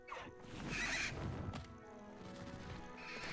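A winged horse-like creature in Hogwarts Legacy gives a loud, close whinny that rises and then fades, with a faint rumble of game sound beneath it and no talking.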